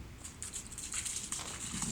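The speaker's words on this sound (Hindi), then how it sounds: "पूरे चंगी बारिश हो रही है" Soft, faint patter of rain in Ranyah, Saudi Arabia, a light continuous hiss of drops pattering steadily with no voices.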